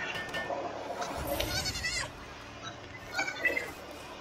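Sheep bleat a few times in the video game Palworld, wavering nasal calls over a quiet background with little else going on.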